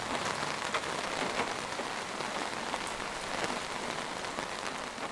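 Rain pours in the opening of the horror video game Chasing Static. The downpour is steady and dense and patters on surfaces, with close drops ticking over a constant hiss. There is no speech.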